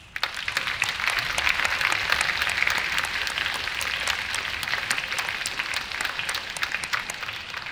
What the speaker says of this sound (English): Please give yourself, all the donors, and our advancement team a big round of applause.